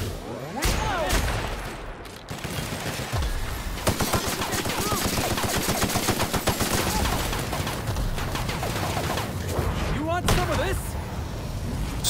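Gunfire in The Outer Worlds goes on for the whole stretch, with dense rapid shots and bursts layered under a voice talking across the action.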